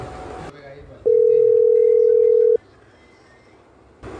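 A single steady electronic phone ringback tone sounds for about a second and a half, with quiet background noise before and after.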